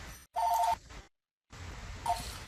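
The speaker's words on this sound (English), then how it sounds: "I got a phone ringing here" A telephone rings twice in a quiet room, two short electronic bursts separated by a silent gap, with faint background hiss between them.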